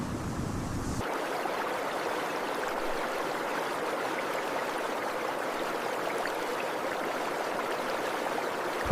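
A stream of icy winter water flows steadily with a dense, continuous rushing hiss, close and unbroken after a brief shift at the start.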